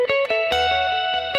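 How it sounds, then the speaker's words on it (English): Electric guitar playing a short turnaround phrase through effects, with sustained distorted, reverb-washed notes and a few clear picked attacks in a steady rhythm, close and fairly loud, no voices. "So this is what I play for the turnaround."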